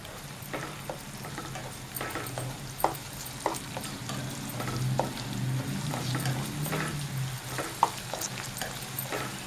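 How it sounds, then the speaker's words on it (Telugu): Ginger garlic paste frying in a pan for a kallu chicken curry, a steady soft sizzle broken by light scraping ticks of stirring, close and moderately quiet. "అల్లం పచ్చివాసన పోయేంత వరకు వేయించుకోవాలండి."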